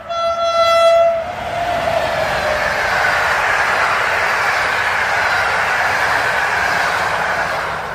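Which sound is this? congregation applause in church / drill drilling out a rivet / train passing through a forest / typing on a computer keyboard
train passing through a forest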